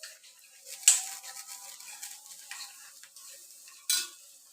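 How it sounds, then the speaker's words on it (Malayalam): A spoon scrapes and stirs in a frying pan while a chicken roast cooks, giving soft, faint swishing strokes with two sharper scrapes standing out. "നല്ലപോലെ ഇളക്കി കൊടുക്കണം"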